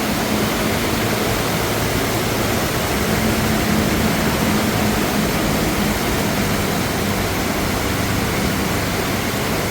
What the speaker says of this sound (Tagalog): May waterfalls dun oh, waterfalls.